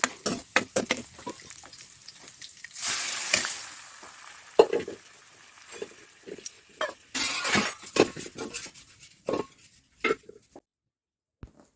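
Arhar dal gets a tempering in a home kitchen pan, with loud bursts of sizzling and frying mixed with spoon stirring and clinks of metal utensils, in uneven close-up bursts without talk.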